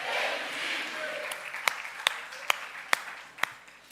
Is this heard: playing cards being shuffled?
no